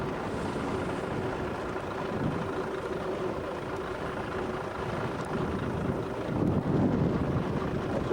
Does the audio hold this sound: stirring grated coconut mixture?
no